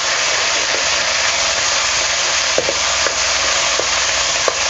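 Ground masala paste frying in hot oil with cumin and curry leaves for a black pea usal, a loud dense sizzle with occasional stirring scrapes, close and continuous without speech.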